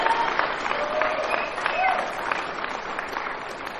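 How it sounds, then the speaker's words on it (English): A recovery-meeting audience of young people breaks into steady applause, dense clapping throughout with faint voices and whoops mixed in. "give yourself a fucking round of applause"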